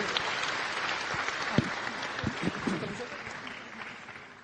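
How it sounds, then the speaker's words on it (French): Dense audience applause at an awards ceremony fills the space, steady and fairly loud, with a few sharper claps standing out before it slowly tapers. "on peut encore les applaudir un petit peu, s'il vous plaît"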